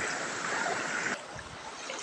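Water rushes and babbles steadily nearby, a continuous river flow that drops slightly in level partway through.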